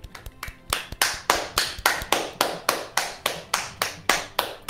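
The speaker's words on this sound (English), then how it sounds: "I got a golf clap" Hands clap in a slow, steady, evenly spaced rhythm of about fourteen crisp claps, close and alone, with no talk.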